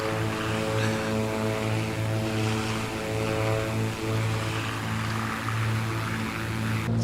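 Twin propeller engines of a Beechcraft Baron B58 drone in steady cruise inside a flight simulator, a constant loud hum with beating tones that gently swell and fade.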